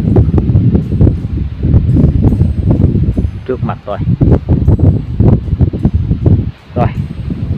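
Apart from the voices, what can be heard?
strong wind blowing outdoors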